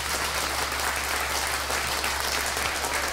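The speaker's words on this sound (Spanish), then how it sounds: "Cero gritos, puros aplausos" Audience applause at a live freestyle rap battle in Ciudad Juárez, steady dense clapping from a crowd over a low hum, with no cheering.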